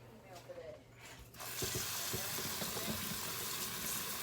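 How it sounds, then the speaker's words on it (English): Running water rinsing chopped wild spring mushrooms in a strainer, a steady gushing splash starting after a quiet moment, with faint clatter and soft voices. "we're going to go ahead and rinse these off"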